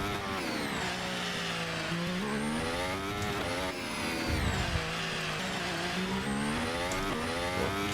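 The engine of an F1 race car in a racing video game rises and falls in pitch through gear changes and a downshift as it takes corners, loud and continuous.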